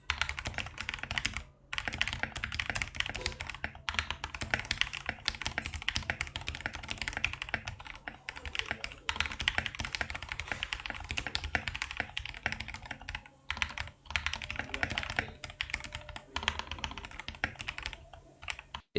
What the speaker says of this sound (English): I bought this keyboard and it sounds like this.